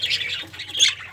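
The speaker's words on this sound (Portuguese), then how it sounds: "Esse aqui é um periquito australiano grandão." A large budgerigar in an aviary colony gives a string of harsh, scratchy squawks and chatter. The calls are continuous and close, with a louder burst near the end.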